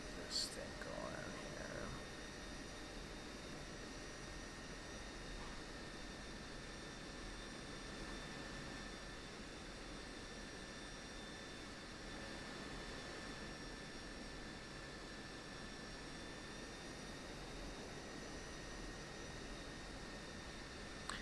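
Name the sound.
F-16 Viper jet engine taxiing in video game DCS World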